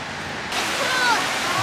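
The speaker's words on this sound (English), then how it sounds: "There's a little waterfall." Steady rushing water from a small roadside waterfall, a broad even wash that grows slightly louder partway through, with a voice briefly audible over it.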